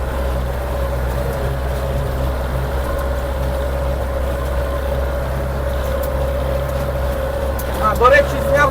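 Scout 404 mini tractor ploughing a garden while driving downhill: a steady, droning engine hum with a constant low rumble that holds level throughout, and a brief clatter near the end.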